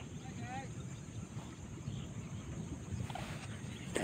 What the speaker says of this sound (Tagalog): Medyo mahangin ah.